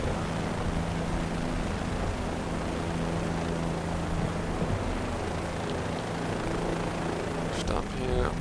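A Bell 407 helicopter taxis in Microsoft Flight Simulator, its turbine and rotor making a steady loud drone with low hum tones throughout and a brief clicking near the end.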